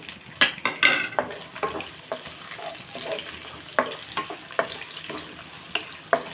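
Chana dal, green chillies and onions fry in hot oil in a pan, a steady close sizzle broken by repeated scraping and stirring clinks of a utensil against the pan.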